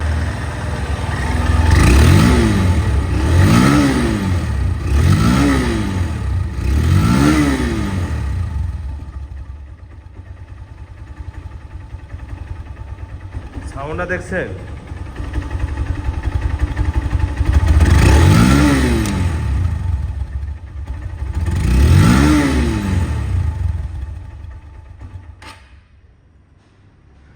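A 2018 Honda Hornet motorcycle engine revved repeatedly in short rising bursts, close and loud, dropping to idle between groups; a voice speaks briefly midway.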